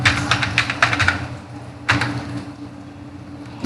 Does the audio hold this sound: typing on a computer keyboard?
yes